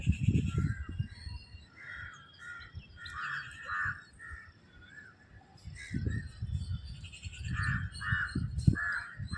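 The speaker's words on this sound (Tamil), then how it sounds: "காலையில் இந்த காக்கா சத்தம் இதுதான்." Several crows caw repeatedly in the morning, harsh calls in short bursts at moderate distance, over a soft low background rumble.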